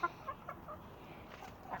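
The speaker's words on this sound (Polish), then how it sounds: "A kury jeszcze chodzą" A few soft, short clucks from chickens, faint and somewhat distant, in a brief quiet outdoor moment.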